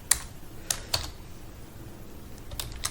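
Keystrokes on a computer keyboard while Java code is written for a Selenium WebDriver script, sparse individual clicks spaced irregularly, close and fairly quiet over a low steady hum with no talking.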